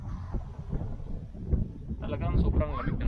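Gusty, cold wind buffets the microphone outdoors on hills in Bukidnon with a low rumbling roar, and a person starts talking near the end.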